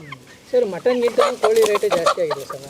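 Native country chickens cluck in quick repeated bursts at close range on a farm, loud and busy, with a voice talking briefly among them.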